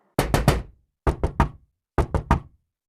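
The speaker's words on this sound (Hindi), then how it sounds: "दरवाजे की आवाज सुनकर छोटू अंदर से ही बोलता है" Three sets of three sharp knocks on a door, evenly spaced, close and loud with silence between each set.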